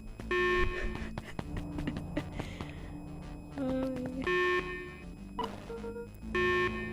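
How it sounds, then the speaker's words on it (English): Electronic beeping in the Beacon Pines video game: repeated tonal beeps in short bursts, some long and some short, mixed with other game sounds at moderate level. "You can turn off the alarms."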